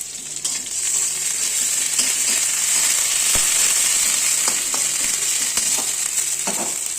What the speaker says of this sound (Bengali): এরপর তেলের মধ্যে আমি টমেটো কুচিটা দিয়ে দেবো। একটু নাড়াচাড়া করে আদা বাটা দিয়ে দেবো।